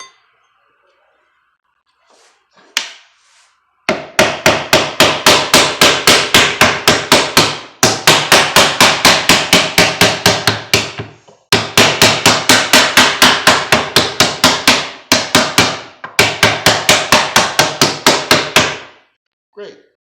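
A hammer strikes a hammer block for guitar tremolo bridge alignment against a template, four quick bursts of rapid, evenly spaced metallic taps, loud and close, with short silences between them.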